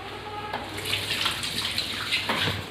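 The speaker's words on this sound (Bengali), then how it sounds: "হাতটা ধুয়ে।" Hands being washed under a running tap in a kitchen, a steady close splash of water with the rush shifting as the hands move through the stream.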